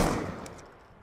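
A single blast from an M1216 shotgun in Black Ops 2 free-for-all play, one sharp loud report right at the start that quickly decays into a fading tail.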